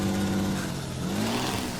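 A two-stroke truck engine in American Truck Simulator runs with a steady low droning hum, and its pitch sweeps briefly upward as it revs, with no one talking.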